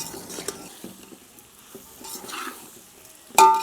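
A vegetable pickle mix of lemon, mango, carrot, beans, green chilli, ginger, salt and chilli powder is stirred in a pan, with scattered scraping strokes and light sizzling, then a sharp metallic clank at the end.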